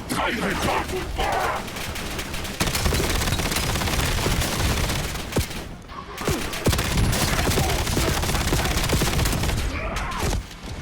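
Rapid gunfire and explosions in the Call of Duty Black Ops 7 video game, loud sustained bursts of automatic fire with heavy booms and brief lulls between volleys.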